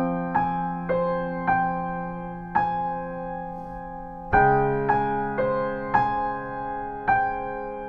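Piano playing a phrase of a song from Frozen, a steady series of struck notes and a fuller chord midway, each note ringing out, close and clear without talking.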